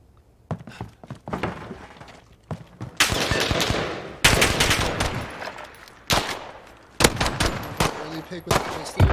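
Pistol gunfire in Call of Duty: Modern Warfare cracks out in rapid, loud bursts of overlapping shots, with sharp impacts and brief gaps between volleys over several seconds.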